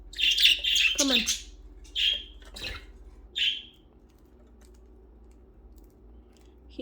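Pet budgies squawk and chirp indoors in several sharp bursts close to the microphone, clustered at the start and then spaced out, with quiet gaps and a low steady hum underneath.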